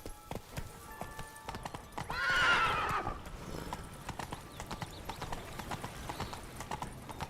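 Roach the horse gallops in The Witcher 3, a steady run of hoof clip-clops with a loud whinny partway through, set amid game music and ambient sound.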